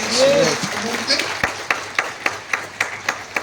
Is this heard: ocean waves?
no